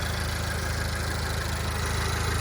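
Renault Clio RS Trophy engine idling with the hood open and light sound insulation, a steady, close, continuous low throb with a fine regular pulse and no talk throughout.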